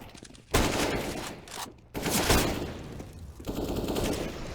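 Heavy automatic gunfire from a Counter-Strike esports match, with sustained loud bursts of rapid shots broken by short pauses and layered over game ambience.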